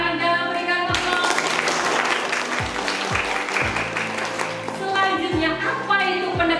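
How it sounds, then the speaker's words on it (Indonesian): A classroom of students claps together in a burst of applause lasting several seconds, with background music playing under it and fading as the clapping ends. "luar biasa Mbak Ananda, berikan tepuk."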